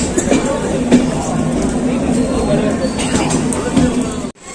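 A Kanyakumari superfast express train rumbles steadily at speed with a continuous rattling roar, close and loud, with faint voices murmuring underneath.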